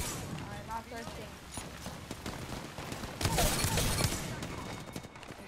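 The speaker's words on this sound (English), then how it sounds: "They're shooting at me." Apex Legends gunfire crackles in quick bursts and volleys during a squad battle, with a denser flurry of shots near the end, while players talk over the firing.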